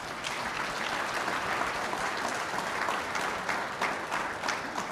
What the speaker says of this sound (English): let's give the panelists a big round of applause too